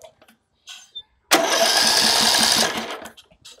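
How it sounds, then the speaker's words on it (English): A Briggs & Stratton lawn mower engine being turned over, a sudden loud mechanical churning burst with a rapid chugging rhythm that lasts just over a second, then fades to a few faint clicks. "So let's now try to turn the engine over with that wire disconnected."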